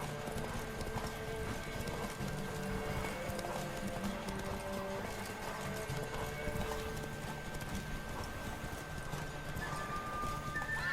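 Clip-clopping hooves of Roach, Geralt's horse in the video game The Witcher 3: Wild Hunt, beat steadily and continuously over a dense game ambience, with a brief whinny and no talking.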